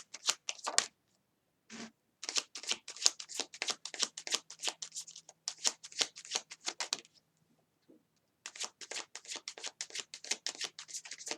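A deck of tarot cards is shuffled close by in quick bursts of crisp riffling and slapping, broken by brief pauses.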